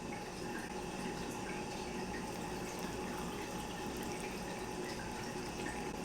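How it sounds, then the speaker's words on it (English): Hot water is poured into a container while mixing a rose water beauty potion for makeup brushes, a steady close rushing splash that runs unbroken for about six seconds. "So I'm gonna add in my hot water."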